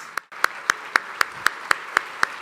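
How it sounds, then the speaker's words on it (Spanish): A crowd claps together in a steady, even rhythm, about four sharp claps per second, close and clear, applauding mothers at a Mother's Day event. "Quisiéramos honrarlas con un fuerte aplauso."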